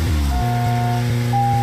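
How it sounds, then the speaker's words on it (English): Car horn in Deadly Premonition, a sustained steady honk that holds for about a second and sounds again near the end, loud and close over a droning engine bed. "Did I just honk?"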